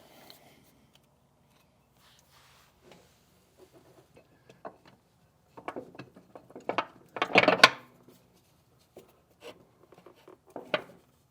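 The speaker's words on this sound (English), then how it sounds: "So just slip it over that shaft and then mesh it with that lower gear, and we should be good to go." Metal gear parts on a Ford 4000 tractor front input shaft clink and scrape as a gear slides over the shaft and meshes with the lower gear, a cluster of close, fairly loud mechanical knocks mid-clip between quieter taps.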